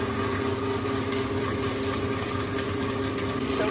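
An electric stand mixer with its guard on runs steadily while beating butter for a marble cake, giving a continuous motor whine with a low mechanical drone, close and even throughout, no voices.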